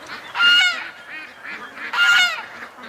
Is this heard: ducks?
yes